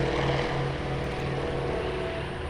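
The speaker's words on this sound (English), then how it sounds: "Taking off now the Douglas A-26 Invader." Douglas A-26 Invader, a World War II warbird, taking off at an airshow in Terre Haute, with a steady, loud propeller-engine drone that holds throughout and eases slightly near the end.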